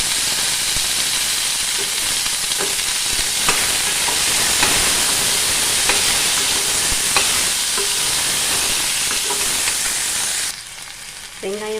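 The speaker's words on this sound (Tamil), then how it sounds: "நான் ஒரு ஸ்பூன் விளக்கெண்ணெய் ஊற்றி வணக்கிக்கலாம்." Onions sauté in a spoonful of castor oil for a mutton curry, a loud steady sizzle with occasional stirring clicks that cuts off near the end.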